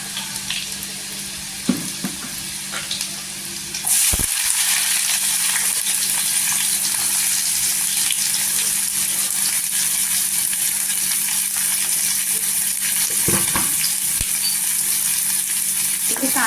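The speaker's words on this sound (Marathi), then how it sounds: "ते इथे आपण कांदे टाकायचे कांदे मी दोन घेतलेले आहेत मोठे कांदे" Onions are added to oil with golden garlic for a spring onion sabzi: a quiet sizzle with a few clinks, then a loud, steady broadband frying hiss from about four seconds on that continues to the end.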